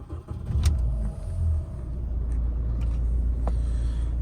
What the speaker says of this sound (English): I'll start it up for you so you can have a listen to the engine.